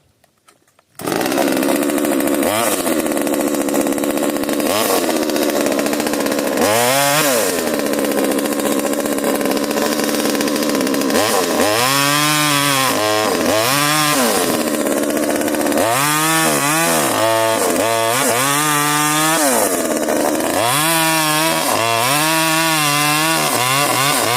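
A small TIREX mini petrol chainsaw starts and runs loud and close, its engine revving up and down in repeated rising whines as it cuts into wood, no voices.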